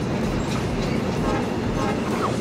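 A train rolls through a video game with a steady, dense rumble and faint clatter of wagons throughout, fairly loud and continuous with no pauses.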